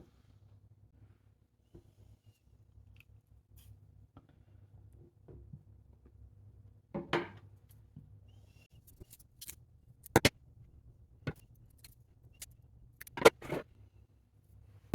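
Small scissors snip moss and soil for a bauble terrarium with oak, moss, lichen and beech wood. The cuts come as a few sharp, isolated snips and soft rustles over a faint low hum, close and quiet.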